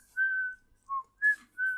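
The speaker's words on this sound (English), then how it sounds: "I can't whistle that high." A person whistles a short, high tune of four clear, pure notes, the first held longest and the next three brief, close and alone against silence.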